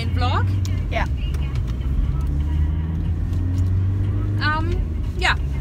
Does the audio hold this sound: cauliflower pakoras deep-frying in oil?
no